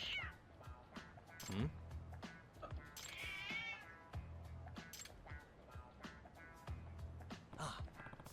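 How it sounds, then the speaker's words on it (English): A stray cat in the video game Lost Judgment meows repeatedly in short, plaintive cries, fairly close and faint overall, mixed with soft game clicks and brief background sounds. "there's a stray cat"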